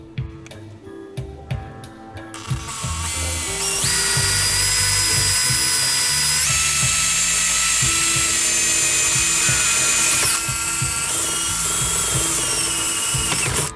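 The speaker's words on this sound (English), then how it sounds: "So it's okay to go ahead and start drilling" A handheld drill bores holes for a heat sink. Faint clicks and handling come first, then the motor spins up to a loud, close, sustained high whine that shifts pitch as the bit bites and eases, with no talking.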